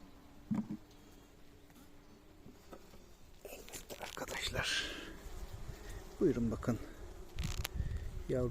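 Honeybees buzz around an open hive during a colony transfer, a faint continuous hum with louder passes and handling noises, while someone talks over it in places.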